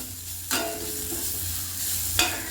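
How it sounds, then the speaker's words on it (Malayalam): Ginger paste sautés in a hot pan with a continuous close sizzle, broken by two sharp scrapes of a spoon stirring it, with no voices. "ഇത് നന്നായിട്ട് പച്ചമണം പോകണം, അത്രയ്ക്ക് നമ്മൾ വഴറ്റിയെടുക്കണം."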